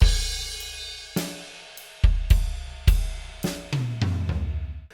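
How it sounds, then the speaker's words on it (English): Drums in an open, spacious rock groove with quarter notes struck on the ride cymbal, booming kick and snare under a ringing, sustained cymbal wash, ending in a short tom run. "the drums are playing quarter notes on the ride"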